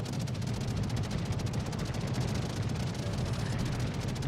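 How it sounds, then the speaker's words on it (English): Anti-aircraft guns on a warship in World of Warships fire a dense, steady stream of rapid pops over a low rumbling roar, loud and continuous throughout. "he's using his anti-air to help the cruiser. Not that he is shooting down an awful lot"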